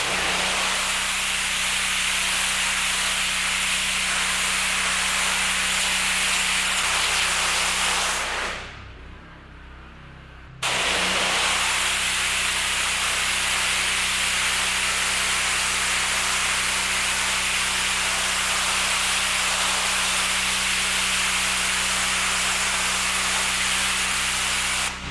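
A hot water pressure washer sprays concrete in a loud, steady hiss, steam rising from hose heat; the spray cuts out briefly partway through, then resumes and runs continuously.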